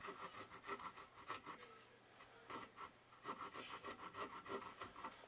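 A handheld drywall saw cuts through drywall in quick rhythmic rasping strokes, close and fairly quiet, pausing briefly midway before continuing.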